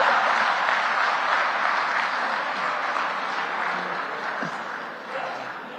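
Applause from a seminar audience at a National Seminar on Happiness, a continuous, full crowd clapping that slowly thins and fades toward the end.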